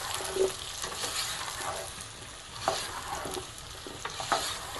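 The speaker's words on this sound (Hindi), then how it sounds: "इसी के साथ हम डाल देंगे अपने आलू और इसे एक मरतबा घुमा लेते हैं" Eggplant and potatoes with onion frying in hot oil in a pan: a steady sizzle broken by several soft scraping stirs of a spoon, moderately close with no voices.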